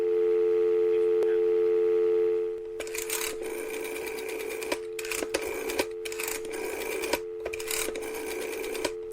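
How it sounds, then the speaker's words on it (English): Rotary telephone handset lifted to give a steady dial tone, which then breaks into a series of interrupted bursts as the numbers are dialed, clicking rhythmically with brief gaps between digits, close and alone. "Let's pick up the handset and dial the numbers."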